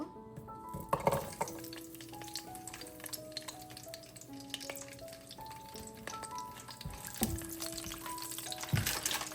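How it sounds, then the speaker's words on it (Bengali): Whole garlic cloves fry in a pan of oil for apple pickle, giving a soft continuous sizzle with occasional scrapes and knocks of a utensil against the pan. "এখন আমি বেশ কয়েকটা আস্ত রসুন দিয়ে দিব।"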